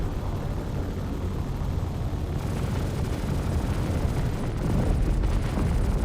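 Torpedo hits rumbling in a naval video game, a sustained loud low roar of explosions and rolling booms filling the whole stretch, with no voices.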